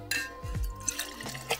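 A cracked egg poured into sauce while making eggnog, giving a brief liquid splat and glug followed by small wet drips, quiet and close.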